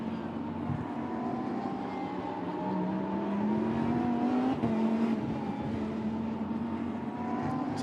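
Lamborghini Super Trofeo race car accelerating at the Nürburgring, a distant engine note rising steadily in pitch under a broad background roar, with no voice over it.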